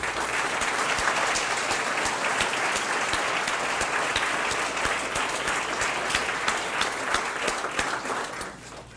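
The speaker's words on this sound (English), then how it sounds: "And I think we owe them another round of applause." An audience at a State of the City address gives a long round of applause, dense crackling clapping at an even level that continues throughout and tapers off near the end.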